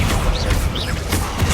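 A Confringo fire spell explodes in Hogwarts Legacy, the video game, with dense booming blasts and crackling bursts filling the short stretch, loud and continuous, with no pause between impacts.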